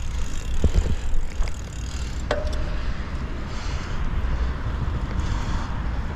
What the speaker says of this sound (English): Going through puddles on the road bike.